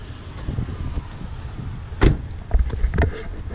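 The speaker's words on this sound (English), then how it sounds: "Pop the hood." The hood of a 2003 Chevy Tahoe Z71 is popped open, giving a sharp metallic clunk followed by a couple of softer knocks and rattles close by.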